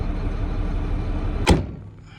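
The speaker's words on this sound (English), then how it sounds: "close the door" A John Deere 4960 tractor cab door shuts with a single solid thump. Steady machine rumble plays before it, and the space goes quiet after.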